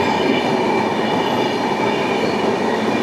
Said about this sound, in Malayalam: ലക്നൗ യശ്വന്ത്പൂർ എക്സ്പ്രസ്.